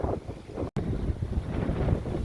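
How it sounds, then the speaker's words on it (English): Strong Hurricane Ida wind roars and buffets the microphone continuously on Dauphin Island, Alabama, with heavy low rumbling gusts and one brief dropout in the middle. "Gusts of wind."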